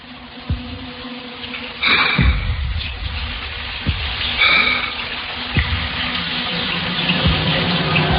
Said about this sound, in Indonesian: Namun memang keran airnya menyala sangat deras.